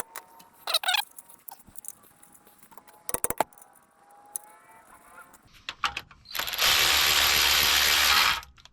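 A ratchet wrench tightens a ball joint on a Volvo XC70. Short clicking bursts and a metallic clink are followed by a loud, sustained run of rapid ratchet clicks near the end, close up and with no talking.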